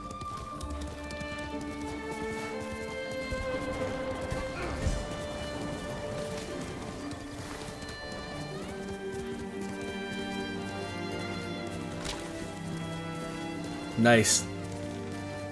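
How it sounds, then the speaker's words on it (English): Horse galloping at full speed in the video game Ghost of Tsushima, a steady rhythmic clip-clop of hooves with game music and a crash near the end, heard beneath someone talking. "Just could basically gallop at full speed and collect resources."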